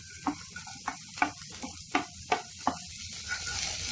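Finely chopped carrots are stir-fried in a pan for masala fried rice. About eight rhythmic spatula scrapes and taps sound over a faint, continuous sizzle, quiet and close.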